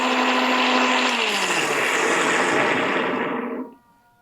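A blender grinds ABC juice with a steady, loud whirring roar for over three seconds, then winds down quickly and stops.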